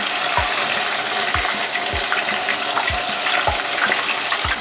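Food fries in hot oil in a pan with a steady, dense crackling sizzle throughout, close and continuous, with faint regular low thumps beneath it.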